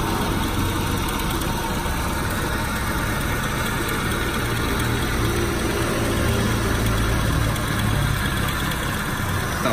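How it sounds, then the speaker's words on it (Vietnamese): A used 2009 Chevrolet Spark SX petrol engine idling with the hood open, a smooth, even, close rumble that runs steadily with no revving and no speech. "máy nổ rất êm"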